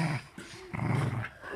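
A dog growls low and close in two short rumbling bursts with a brief whimpery gap between them, and no talk over it.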